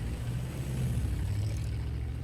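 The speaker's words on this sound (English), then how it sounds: "Automobile." An automobile sound effect from a stereo LP record: a steady, low engine rumble that holds at a constant level for the whole stretch, with no voices.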